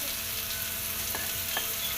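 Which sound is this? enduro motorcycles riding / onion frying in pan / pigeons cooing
onion frying in pan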